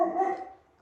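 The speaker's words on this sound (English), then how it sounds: "Sorry, my dog is barking" A single dog bark, short and moderately close, fading quickly into quiet indoor room tone.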